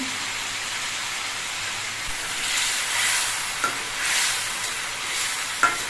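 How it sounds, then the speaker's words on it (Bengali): Fried parshe fish gently stirred in hot oil in a kadai, with a steady close sizzle and soft scraping swells of stirring, plus a few light clinks near the end. "আর ভেজে রাখা মাছগুলো দিয়ে দিচ্ছি। মাছগুলো খুব নরম প্রকৃতির হয়, এই জন্য মাছগুলো খুব সাবধানে নাড়তে হবে।"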